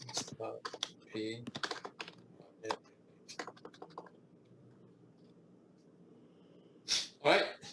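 Typing on a computer keyboard in quick clusters of clicky keystrokes, close and moderately loud, with a pause in the middle and a short burst of breathy noise at the end.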